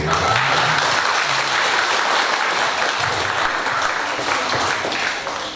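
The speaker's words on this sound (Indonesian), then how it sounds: "Tepuk tangan dulu." An audience at an on-the-job coaching training session at IAIN Lhokseumawe breaks into dense, continuous applause, loud and sustained before tapering off at the end.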